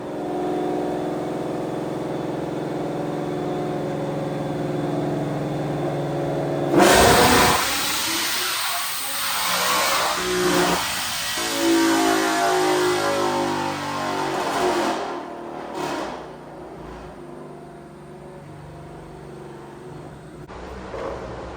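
A 2019 Mustang GT on E85 with a stock motor roars up through 5th gear on a dyno, 2500 to 7500 RPM: after a steady hum, a loud surge rises and then settles into a droning, fluctuating engine sound.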